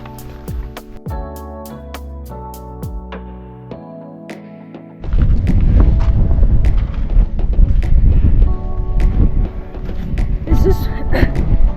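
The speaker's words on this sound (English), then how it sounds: "Super windy and a headwind the whole time." Strong headwind near Mount Antero buffets the microphone in a loud, continuous roar, preceded by a few seconds of quieter tonal background.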